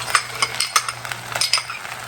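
Peppers, corn and salsa being stirred in a skillet, soft scraping and clinking strokes in an irregular rhythm over a low steady hum, close and moderate in volume.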